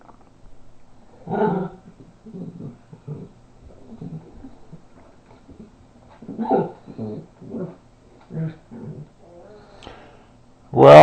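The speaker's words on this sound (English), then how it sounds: "roughhousing with these dogs" Dogs roughhousing and playing in an office, with scattered bursts of growls, grumbles and yips spread across the stretch, close and moderately loud against a quiet room, ending in a sudden loud bark.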